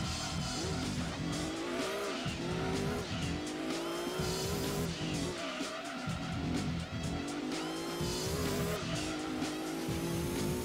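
Race car in Gran Turismo 2 driven hard, its engine revving up and down through gear changes while tires squeal repeatedly in corners, loud and close with no talking.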